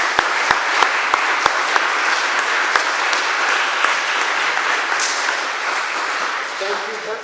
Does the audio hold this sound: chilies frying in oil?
no